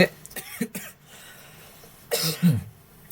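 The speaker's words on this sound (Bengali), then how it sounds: "আমি কিছুটা অসুস্থ আর কি, যার কারণে বারবার কাশিটা আসতেছে" A teacher who is ill coughs several times, short harsh bursts near the start and a heavier cough with throat clearing later, close and loud with quiet pauses between.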